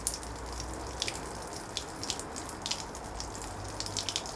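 Water draining quickly out of a Lister engine during a repair, heard as a faint steady trickle with scattered drips and splashes throughout.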